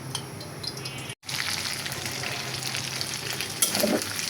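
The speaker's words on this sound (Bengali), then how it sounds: "চিংড়ি মাছগুলো লাল করে ভেজে নিলাম" Shrimp frying in hot oil, a dense steady sizzle heard up close, broken by a brief cut early on and a short stir or clink near the end.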